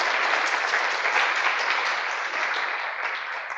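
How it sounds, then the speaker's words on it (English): An audience at a health panel gives a speaker a warm round of applause, a full, even burst of clapping that holds steady and tapers off slightly. "Let's give her one more round of applause for that"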